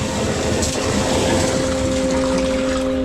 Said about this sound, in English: And we get the water pump on.